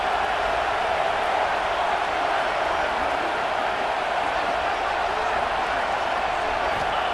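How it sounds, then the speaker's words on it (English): A home crowd roars at a Texas vs Arkansas football game, a dense, loud and unbroken wash of cheering that holds level throughout, with voices blended into the noise. "how nice is it to have the home crowd going absolutely bananas?"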